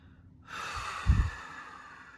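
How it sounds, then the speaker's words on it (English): A person takes a guided breath, drawing air audibly in through the nose and then pushing it out through the mouth in a breathy rush. The sound is close and moderately loud, with no words spoken. "Breathing in through your nose and blowing it out through your mouth."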